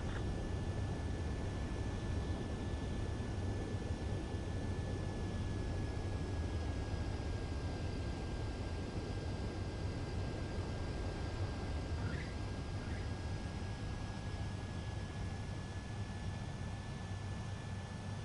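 A jet aircraft on runway approach in the video game Ace Combat 7 gives a steady, unbroken engine roar with a faint whining tone over it, with no talk.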